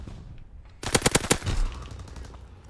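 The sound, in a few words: gunfire in Call of Duty WW2 video game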